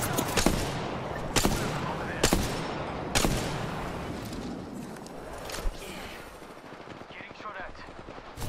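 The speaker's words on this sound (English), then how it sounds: "Getting shot at." Bursts of gunfire in the battle royale game Apex Legends, several sharp loud shots spaced through the clip with rapid automatic fire beneath, close and fading toward the end, with faint voice activity mixed in.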